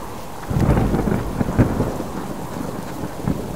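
A heavy thunderstorm in the survival video game Subsistence: a dense, loud wash of steady rain with a deep rumble of thunder swelling in and rolling on, with no talking.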